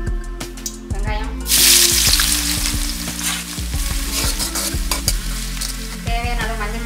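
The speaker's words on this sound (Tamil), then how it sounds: "வெங்காயம் நல்லா வதங்கிடுச்சு" Onions sauté in groundnut oil for country chicken chukka, a loud close sizzle with frequent clattering stirs of a utensil against the pan, rising briefly into a hiss.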